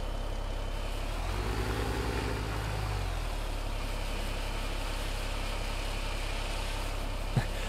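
A tractor engine idling in Farming Simulator 17, a steady low drone throughout with a brief rising-and-falling throttle swell early on and a single click late.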